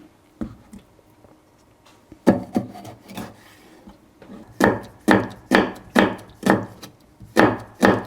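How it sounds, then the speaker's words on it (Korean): A knife slices a vegetable thinly on a cutting board, starting with a few scattered cuts and then settling into a quick, regular run of crisp close chops roughly twice a second. "이거를 두껍게 하지 말고 최대한으로 조금 얇게 썰어야 돼."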